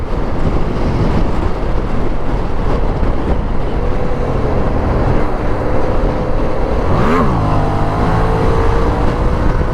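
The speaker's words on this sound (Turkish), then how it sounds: "Oo bir tane arkadan Ducati geliyor." Ducati motorcycle approaching from behind a moving rider, its engine note rising and sweeping past near the end, largely buried under constant roaring wind buffeting.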